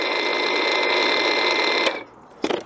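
An EGO PHA7400 battery auger running in reverse in the ground, a loud steady electric motor whine that cuts off abruptly, followed by a brief clunk.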